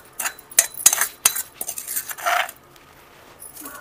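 Red chillies pounded with salt for a tamarind and red chilli pickle, heard as sharp irregular metallic clinks and knocks at close range, with bursts of rattling scrapes in between.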